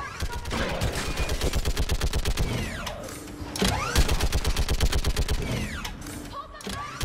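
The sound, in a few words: mounted gun firing at enemies, from video game Mass Effect 3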